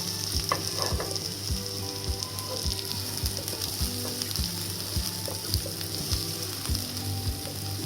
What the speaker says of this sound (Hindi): और साथ ही मैं इसमें चॉप किया हुआ गार्लिक डाल दूँगी। थोड़ा सा इसको सौते करेंगे।